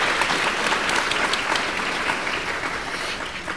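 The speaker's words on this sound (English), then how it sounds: "Let's please give a round of applause to our incredible panelists tonight." Audience applause for a panel at an evening event, a dense steady clapping from a sizeable crowd that tapers slightly toward the end.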